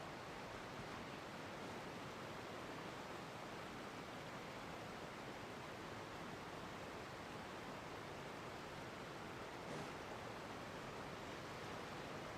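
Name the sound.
waterfall rushing in the video game Genshin Impact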